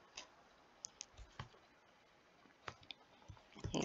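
Keys on a computer keyboard being typed in sparse, uneven bursts of sharp clicks with pauses between them, fairly close and quiet against a still background.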